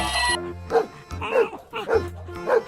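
A toy dog's electronic bark sounds from a new toy box alongside elephant, monkey and dinosaur toys, coming as four short, loud yaps spaced evenly over a couple of seconds, with a steady humming tone between them.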